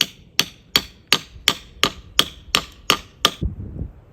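Ten sharp metallic hammer strikes drive rebar into the ground in a steady, evenly spaced rhythm, each ringing clank close and loud, followed by a couple of duller knocks.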